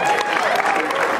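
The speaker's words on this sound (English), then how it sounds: "The big, huge round of applause for both Angela and Kara." Audience applause at a live comedy show with an American Gladiator theme, dense steady clapping filling the whole short moment, loud and close with crowd noise mixed in.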